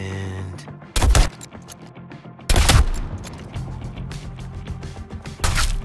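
Gunfire from several weapons in the Suicide Squad: Kill the Justice League video game, with three loud bursts of shots separated by quieter stretches of game sound.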